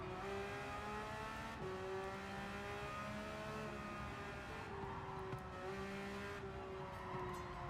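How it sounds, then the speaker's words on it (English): Tires screech in Gran Turismo 7 as a race car corners hard under traction control, sustained shrill squeals layered over a steady engine drone, continuous and fairly even throughout. "you can hear those tires screeching"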